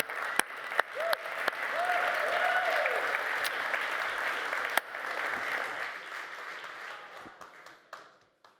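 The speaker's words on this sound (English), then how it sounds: "So a huge round of applause, please." An audience at the Umbraco Codegarden 2022 developer conference applauds for several seconds, a dense steady wash of clapping with a few sharp claps and a brief cheer, fading out at the end.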